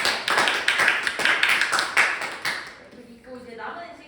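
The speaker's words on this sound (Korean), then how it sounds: "큰 박수 부탁드립니다." An audience at the close of a lecture breaks into dense, lively applause for about two and a half seconds, then fades as a voice begins speaking.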